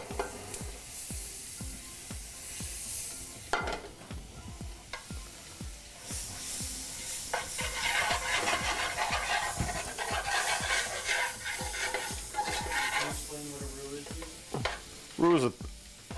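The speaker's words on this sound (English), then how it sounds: "Now we're going to add a little bit more butter, and we're going to make a roux out of this." Butter and flour sizzle steadily in a hot pan while being stirred into a roux, with repeated close scraping strokes over continuous frying hiss; no one speaks.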